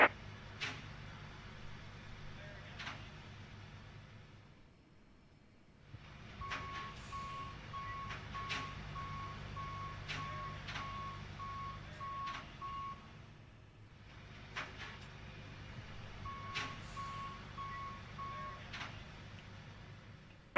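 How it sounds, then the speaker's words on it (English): Reversing beeps from an aircraft pushback tug in a Q400 flight simulator chirp in steady, evenly spaced pulses over a low engine hum, in two long runs split by a brief quiet gap. "here comes the pushback"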